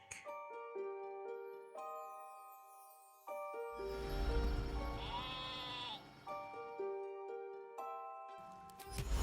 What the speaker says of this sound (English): you make somebody into a sheep.